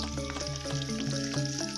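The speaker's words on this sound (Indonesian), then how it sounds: "Kita cemplungkan, digoreng dulu kentangnya lur ya." Potatoes fry in hot oil in a wok, giving a steady sizzle under a repeating musical backing with a looping melody, no talking.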